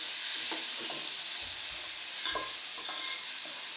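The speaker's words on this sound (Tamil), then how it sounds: "தக்காளியை நல்லா வதக்கிக்கலாம்." Chopped tomatoes sauté in a pan with curry leaves for a Tamil-style fish curry, a soft, quiet sizzle with a few gentle stirring scrapes and clicks from a spoon.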